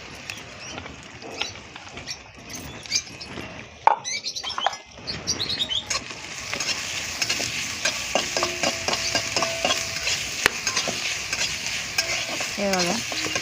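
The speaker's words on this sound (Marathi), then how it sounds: "कांद्याला आणि अद्रक लसणाला एकत्र करून घेतलं मी तेलामध्ये" Chopped onion with ginger-garlic paste frying and being stirred in oil in a pan, a steady sizzle with scraping stir strokes and light clinks, fairly close, no talking.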